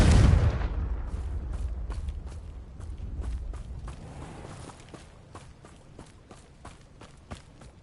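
Confringo spell cast in a video game: a loud booming blast at the outset that rumbles and fades over a few seconds, followed by a string of light, evenly spaced footstep-like taps.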